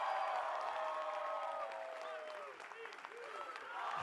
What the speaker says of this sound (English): So please give him the best round of applause you can.